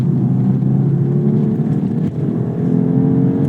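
A BMW 2 Series G42 engine with a 6,500 RPM redline holds a steady, fairly quiet, muffled drone heard from inside the car, with no talking.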